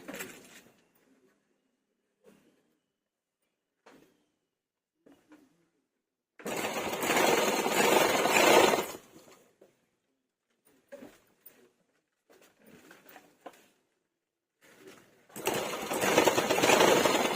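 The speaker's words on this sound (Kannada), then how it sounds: "ಇವಾಗ ನಾನು ಸ್ವಲ್ಪ ಹಿಂದೆಯಿಂದನೇ ಹೊಲಿತಾ ಇದ್ದೀನಿ" A sewing machine stitches elastic onto a kurti neckline, with two loud bursts of rapid mechanical whirring separated by quieter gaps holding faint clicks and handling taps.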